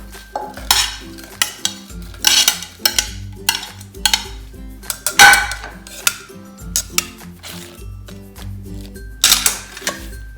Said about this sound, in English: So I got my mortar and my pestle here, and I'm just gonna grab the roasted peppers, shallots, and garlic and place it inside.